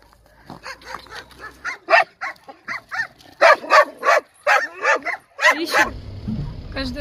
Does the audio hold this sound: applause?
no